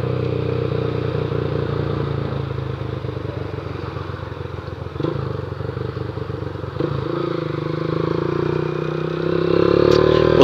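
A 2008 Honda Titan 150 motorcycle with a modified engine idles and runs steadily up close, a loud continuous throbbing drone with a couple of brief clanks and a slight rise in revs near the end.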